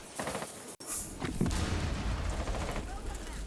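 Gunfire in Rainbow Six Siege comes as a rapid string of sharp shots with a heavy boom partway through, mixed with game noise while a voice talks over it.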